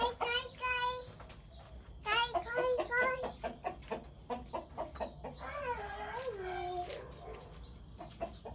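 Chickens in Khon Kaen, Thailand, cluck nearby in rapid, repeated bursts, with a drawn-out, wavering call partway through.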